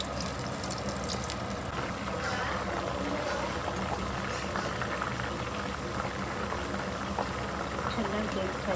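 Mushrooms sizzle in a hot pan over a medium flame for a pepper dry, a steady broadband frying hiss that runs continuously under intermittent kitchen noise and a speaking voice.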